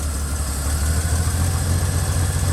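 A Chevy K10 squarebody pickup engine idles steadily just after starting, a close, continuous low rumble with a constant hum and no talking.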